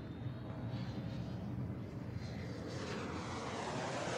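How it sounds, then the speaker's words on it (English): Concorde supersonic passenger jet engines roar in a broad, steady, rumbling drone that holds at an even level throughout, with no voices. "Concorde is the only existing supersonic passenger plane."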